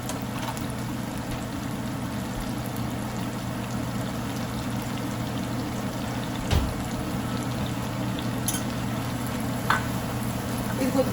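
Half a spoon of ginger garlic paste fries in a pan for a Telugu bitter gourd (kakarakaya) pulusu, a steady, even sizzle running throughout with a low background hum and one or two brief clicks.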